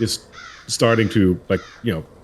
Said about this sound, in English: you can hear that crow that is standing outside the window